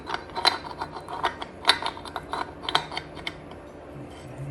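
An old hand ratchet loosens bolts during a Dana 44 axle teardown, giving a run of sharp metallic clicks and pawl ticks at irregular spacing, close up and fairly loud over a faint background hum.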